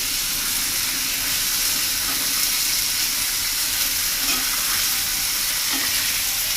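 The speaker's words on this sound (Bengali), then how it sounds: "এই মুরগিটা এখন ভাজমু, ঠিক আছে?" Broiler chicken frying in a pan in a rural kitchen crackles and sizzles loudly and continuously up close, with occasional soft scrapes of stirring and no voices.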